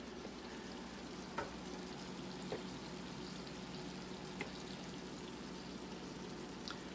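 Onions fry in a pan with a faint, steady sizzling hiss throughout, broken by a few soft pops, and no one speaks.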